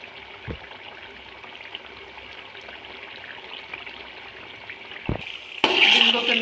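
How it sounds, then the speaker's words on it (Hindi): Chicken malai boti frying with cream in a kadhai, a steady soft sizzle running throughout, with a brief louder burst of bubbling and stirring near the end. "ऑयल छोड़ दी है कढ़ाई ने अपनी, माशाल्लाह अच्छे से भुन रही है।"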